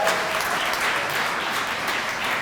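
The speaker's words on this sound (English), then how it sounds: "They deserve another round of applause." People at a downtown association annual meeting clap in a sustained, fairly even round of applause, moderately loud and unbroken, with no voices over it.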